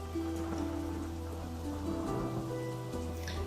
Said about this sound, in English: Huge raindrops fell from the sky to the boat's bottom, thick and fast, like bombs from enemy planes.